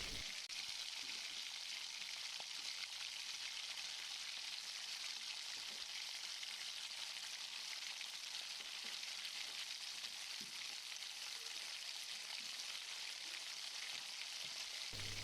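Tomato pulp and eggs fry in a pan with a steady, even sizzle that continues without a break, a soft hiss with faint crackles and no voices.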